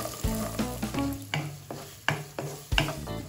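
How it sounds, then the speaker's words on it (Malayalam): Chopped onion sautéing in hot oil with spices sizzles steadily under repeated scraping stirs of a spoon against the pan, about a dozen distinct strokes, close and without speech. "സവാള എണ്ണയിൽ വഴറ്റിയെടുക്കണം."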